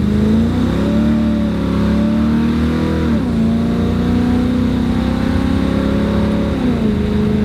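A car engine runs continuously under load as the vehicle drives off, its pitch rising through the gears with two distinct shifts, loud and close with no talking.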